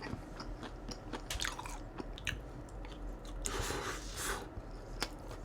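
Someone eats crispy crab rangoons dipped in sauce, with close, wet chewing and squishy bites, interrupted by a few sharper crunches, quiet and intimate with no talking.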